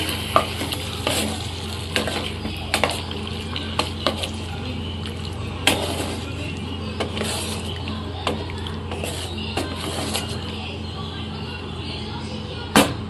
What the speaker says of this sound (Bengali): এবারে আমি এর মধ্যে চিকেনটা দিয়ে দেব। এবারে একটু চিকেনটাকে ভালোভাবে মিক্সড করে নেব।